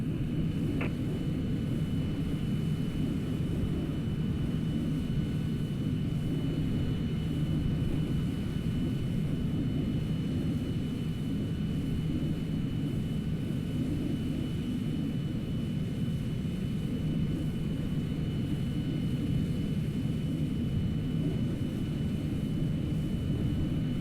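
A steady, loud engine drone and low rumble from an airliner in Microsoft Flight Simulator being pushed back from the gate, holding unchanged throughout with no talk.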